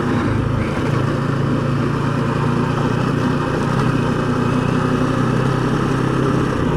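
A motorcycle rides between Cochrane and Canmore, Alberta, over washboard brake bumps on the road, its engine a loud, steady, close drone that never lets up, with a rattling roughness running through it.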